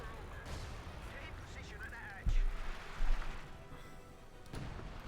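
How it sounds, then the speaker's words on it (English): 25-pounder artillery guns firing in Company of Heroes 2, a couple of deep thuds amid a busy battlefield mix, under a commentator's talk. "Alex is firing away. 25-pounder guns"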